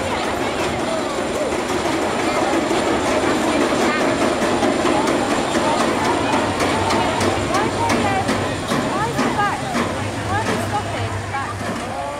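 The Big One roller coaster train at Blackpool Pleasure Beach rolls along its track during a wheel check, giving a dense continuous rumble with rattling and clacking. A low drone joins later, and voices are faintly present.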